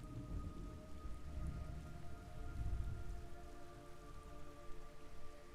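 Steady rain in the video game Metal Gear Solid Delta pours down with a dense hiss and low rumble, a faint sustained tone humming underneath, and no voices.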